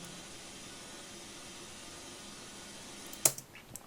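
The tail of a cat meow sample, left ungated, becomes a steady, faint white-noise hiss that runs evenly, then gives way to a sharp click and a few scattered bursts near the end.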